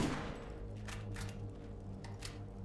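Shotgun blasts from the video game Borderlands, a few sharp reports spaced irregularly over a steady low droning game soundtrack, moderately loud and without voices.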